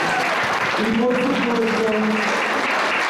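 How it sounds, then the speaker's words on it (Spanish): Audience applause for a cameraman at a university student TV show taping, a loud, dense round of clapping that fills the clip while a presenter keeps talking over it. "Un fuerte aplauso para Pablo."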